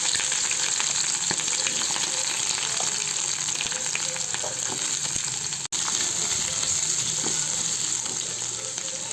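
Dried red chillies fry in hot oil in a pan for an aloo masala curry, giving a loud, continuous crackling sizzle with faint stirring scrapes and no talk.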